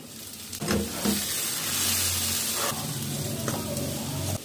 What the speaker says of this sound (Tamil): இப்போ குடமிளகாயும் வெங்காயமும் நல்லா வதங்கிச்சு